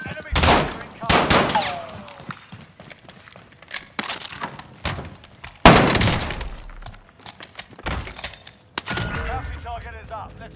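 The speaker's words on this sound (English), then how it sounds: "Enemy fire incoming." Enemy gunfire in the video game Call of Duty: Modern Warfare, sharp loud shots in irregular bursts mixed with breaking-glass crashes, with voices heard in between.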